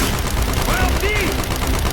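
Gunfire from a Call of Duty: Black Ops firefight, dense overlapping shots and bursts in a steady loud barrage, with shouted voices mixed underneath.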